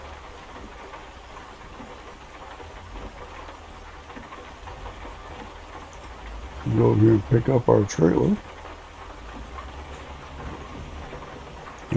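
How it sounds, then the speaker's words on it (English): Steady rain patters in American Truck Simulator beneath the low, even drone of an idling truck engine, with a voice briefly speaking over it partway through. "And we're going to drive in the rain"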